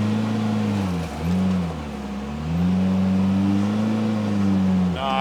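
A 2026 Kawasaki Teryx5 H2 side-by-side in low-range four-wheel drive revs loudly up a rock pile, the engine note rising and dipping in surges as the throttle is worked, close and continuous.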